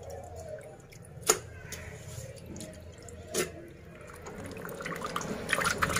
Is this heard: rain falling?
no